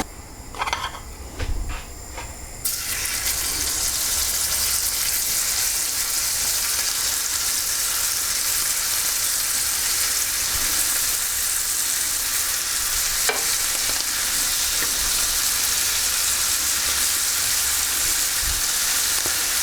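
Butter and olive oil in a hot pan break into a loud, steady sizzle after a few seconds of clatter, and the frying hiss then continues without a break.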